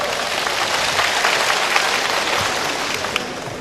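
An audience at the official installation ceremony of the central office of the High Council of Nigeriens in Benin claps continuously, a dense, steady wash of applause filling the whole stretch.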